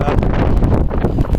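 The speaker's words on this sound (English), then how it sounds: "And it's got very windy as well." Strong wind buffets a microphone on a hilltop in the Peak District near Ladybower, loud continuous low rumbling gusts close up with no break.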